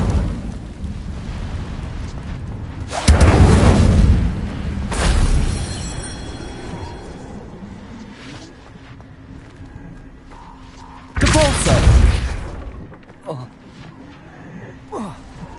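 Fire spell bursts in a Hogwarts Legacy game, a few sudden whooshing, roaring flares that swell and fade, separated by quieter ambience and light game sounds.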